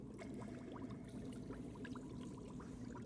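Liquid poured steadily into a container for a Halloween mad-lab craft with leftover glue, a close, continuous trickling stream lasting a few seconds with no talk.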